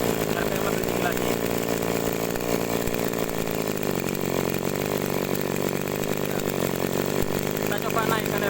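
Small engine of an agricultural sprayer running steadily at high speed, a dense buzzing drone like a small two-stroke motor that holds a constant loud pitch throughout, with a voice speaking faintly over it.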